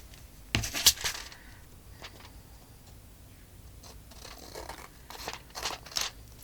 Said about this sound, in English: I'm going to trim it with my scissors.